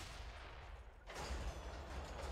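A heavy cannon blast in Borderlands 2, a single sudden booming discharge about a second in, followed by a sustained rumbling roar.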